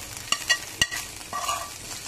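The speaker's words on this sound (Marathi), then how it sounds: "आता लगेच गॅस बंद करून चटणीवर आपण हा तडका घालून घेणार आहोत।" Hot tempering poured onto spicy chutney for veg momos: a few sharp clinks and splashes, then a soft crackling sizzle that fades quickly.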